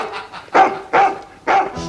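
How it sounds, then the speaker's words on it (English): A dog barks three times in quick succession at a steady rhythm, loud and close, with a short gap between each bark. "Do keep that dog quiet, or he'll have you for disturbing the peace."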